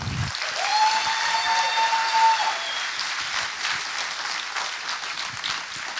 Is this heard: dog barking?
no